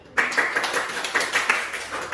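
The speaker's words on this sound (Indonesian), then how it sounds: "Tepuk tangan dulu, Cik" A class of students claps in a classroom, a short burst of brisk, fairly close hand claps that runs steadily for about two seconds with no talk over it.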